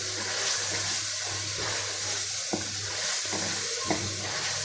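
Whole garam masala spices frying in oil in a pan, a steady sizzle broken by occasional clicks and scrapes of a spoon stirring, close up with a faint low hum behind.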